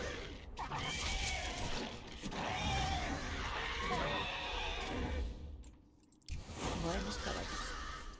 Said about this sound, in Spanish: Buenos caballos.